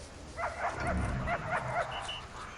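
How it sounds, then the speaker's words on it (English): Injured dog in the Prison Architect video game whimpering and yipping in a short run of high, whining cries over faint background noise, with a voice murmuring underneath. "The dog's injured."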